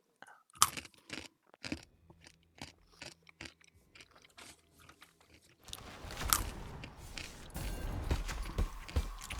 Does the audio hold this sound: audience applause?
no